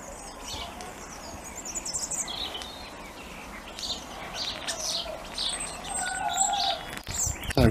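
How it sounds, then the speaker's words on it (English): A starling sings with repeated bright chirps and warbling phrases over a steady background murmur of distant activity and children playing, moderately loud throughout. "The starling's still singing."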